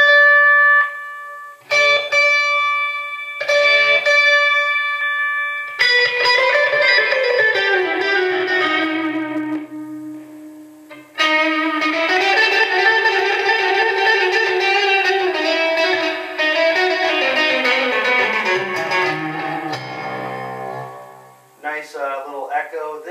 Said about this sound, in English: Nice little echo there.